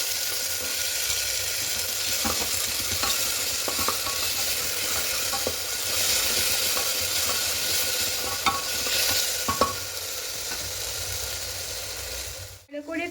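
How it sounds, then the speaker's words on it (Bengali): Spices sauté in a pan for a chicken curry, hissing in a steady, close sizzle under repeated scraping strokes of a spatula that keep an uneven rhythm, before the sound cuts off abruptly near the end. "একটু মশলাটা কষিয়ে দেবো কাঁচা গন্ধটা চলে যাওয়া পর্যন্ত।"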